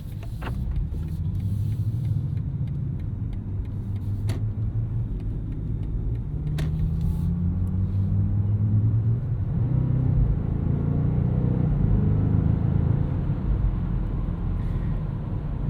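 A 2025 BMW M5 cruises along a road on a long trip, its engine a steady low rumble under constant road and tyre noise, swelling slightly as it pulls, with a few faint clicks inside the cabin.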